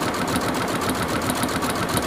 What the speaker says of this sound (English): I've lifted my material up to my sewing machine, so I'm kind of just sewing